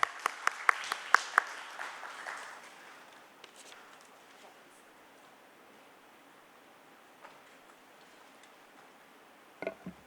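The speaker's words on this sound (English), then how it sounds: "A round of applause." Brief, scattered clapping from a conference audience welcoming a speaker to the dais, a few sharp claps up close that quickly thin out and fade into quiet room tone.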